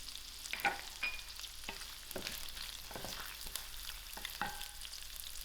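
Chilies, curry leaves and garlic frying in oil in a pan for a calabash and dried shrimp dish, giving a steady sizzle with sharp clicks and scrapes of stirring, close and continuous with no talk.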